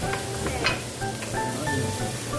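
Onions fry in a pan for pork binagoongan, giving a steady close sizzle with a few brief stirring scrapes.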